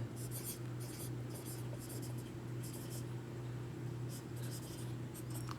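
A pen scratches by hand during a Class 10 math lesson on linear equations, sounding as short, faint scribbling bursts in an uneven rhythm over a steady low hum, with no talk.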